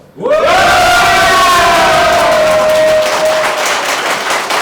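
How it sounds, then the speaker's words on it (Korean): Thousands of supporters at a rainy Saturday evening election rally in Ulsan let out a loud, sustained roar of shouting and cheering that swells quickly and holds for several seconds, with one long rising voice above the crowd. "여러분들 이 함성으로 짐작하셨겠지만 지금 여기 수천 명 모여 있습니다"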